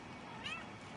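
Domestic cat letting out a single short meow in the middle of the moment, faint against quiet indoor background noise.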